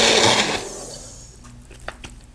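Magic Bullet blender mixing in a mug, a brief, loud high-pitched whir that cuts off quickly and is followed by a few light clicks and knocks.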